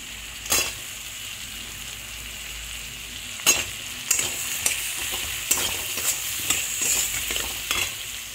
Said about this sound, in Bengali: পেঁয়াজটাকে একটু ভালো করে ভেজে নিয়ে এর মধ্যে দিয়ে দেবো কেটে রাখা আলুগুলো